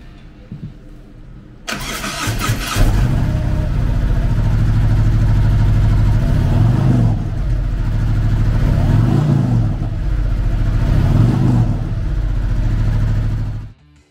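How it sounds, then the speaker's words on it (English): A 2017 Harley-Davidson Street Glide Special's 107 cubic inch V-twin cranks and fires up loudly nearby, then settles into a deep, loping idle broken by three brief throttle blips before cutting off. "Powered by a 107 cubic inch V-twin motor"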